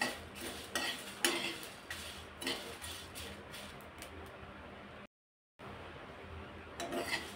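Whole spices, cumin and coriander seeds, dry-roasted in a pan over medium heat for a Maharashtrian masala, with steady scraping, rubbing and clinking of a spoon against the metal pan, broken by a brief silent gap.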